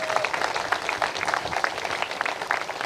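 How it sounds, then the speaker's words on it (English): An outdoor audience applauds at a statue unveiling ceremony, with dense, steady clapping from a crowd that carries on through the whole stretch without fading. "Let's clap it up for them as well"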